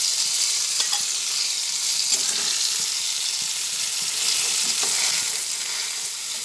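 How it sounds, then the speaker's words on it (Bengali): Flat beans fry in hot oil in a pan with a steady, soft sizzling hiss and a few faint scraping clinks, heard alone without speech. "সিমগুলো ভাজা হয়ে গেছে তাই এগুলো তেল ধরিয়ে একটা পাত্রে তুলে ফেলছি"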